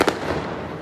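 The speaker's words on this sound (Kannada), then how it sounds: "ಪಟಾಕಿ ಎಲ್ಲ ಹೊಡಿದವ್ರೆ" A firecracker bursts with a sharp crack at the start of a night festival, followed by a brief ringing, crackling tail.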